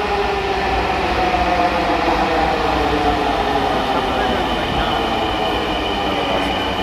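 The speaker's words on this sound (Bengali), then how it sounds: "এই যে আমাদের গাড়ি এসে গেছে" A metro train pulling into a station platform, loud sustained rumble and rail roar with faint wheel squeal, steady and close, with murmuring voices beneath.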